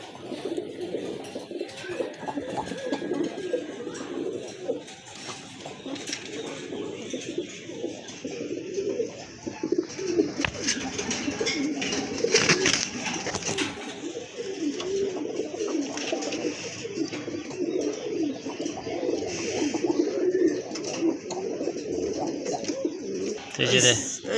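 Low, throaty cooing from several pigeons fills the space continuously, with a few rustles and flutters mixed in.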